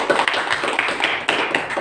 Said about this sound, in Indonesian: Tepuk tangan untuk Mbak Cici.